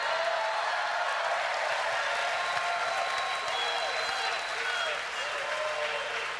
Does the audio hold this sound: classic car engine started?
no